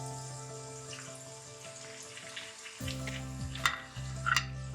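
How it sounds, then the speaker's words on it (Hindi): Tomatoes fry in a pan while a chana pulao is being cooked, giving a steady low sizzle that swells louder partway through, with brief clinks and scrapes of stirring on top. "अच्छी तरह टमाटरों को भूनना है"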